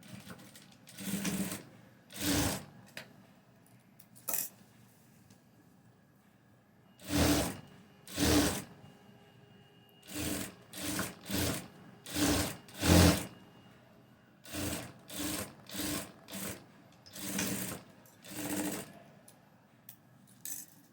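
A sewing machine stitching the side seam of a blouse runs in short quiet bursts of rapid needle clatter, separated by pauses of near silence.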